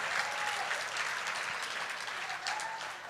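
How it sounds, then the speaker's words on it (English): At a school district awards ceremony, a large audience gives honorees a sustained round of applause, with dense, even clapping throughout that tapers slightly at the end. "let's give our honorees another round of applause, a generous round of applause."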